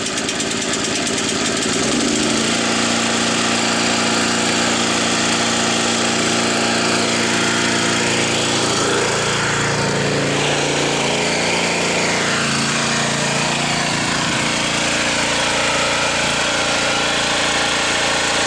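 Harbor Freight Predator 6.5HP gas engine driving a Sears Roto-Spader, running steadily and loudly at close range with a throbbing, knocking small-engine drone and shifting load tones, no talk.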